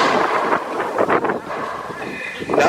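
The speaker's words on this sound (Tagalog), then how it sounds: "lakas na ng hangin" Strong wind from an approaching typhoon roars and buffets the microphone in loud, continuous gusts, with a rough broadband rush throughout.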